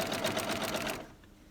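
A sewing machine runs steadily for about a second while stitching a quilt heart block along a pressed crease with right sides together, giving a rapid, close, even mechanical chatter before stopping into quiet.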